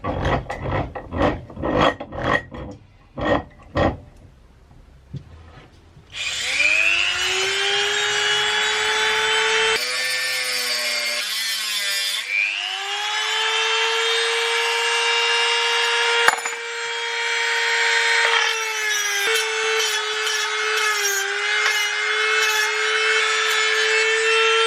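A metal file is cut down for guitar fret work. A run of short rhythmic scraping strokes gives way to a loud, sustained, shrill grinding whine that wavers in pitch and briefly cuts out several times.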